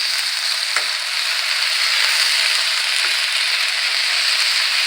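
Stewed tomatoes hit a hot pan with a loud, steady hissing sizzle that holds evenly throughout, with a faint stir or clink now and then.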